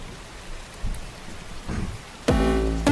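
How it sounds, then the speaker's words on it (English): A rain sound effect played back in a room comes in abruptly as a loud, steady hiss of rainfall with a tonal layer in the last stretch, after quieter background noise. "where's my rain sound?"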